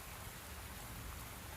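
Rain falls in a dense, even hiss with a low rumbling undertone, continuous and fairly faint, with no talking over it.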